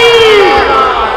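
A large crowd at a devotional Urdu-Punjabi religious gathering roars out Subhan Allah together in a loud, sustained shout that fills the space and slowly fades.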